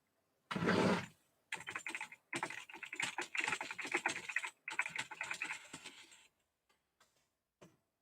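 Fast keystrokes rattle on a computer keyboard in dense bursts separated by short pauses, close and clear, ending in a few scattered taps with no voices.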